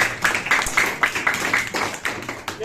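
Students in a classroom clap for a classmate, a short steady run of about a dozen sharp handclaps in an even rhythm, close and moderately loud.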